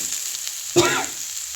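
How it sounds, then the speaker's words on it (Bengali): Spring onion greens and new potatoes frying in a pan, a steady soft sizzle with a sudden louder burst of hiss partway through as the food is stirred. "এরকম কিছুক্ষণ আর একটু ভেজে নেব"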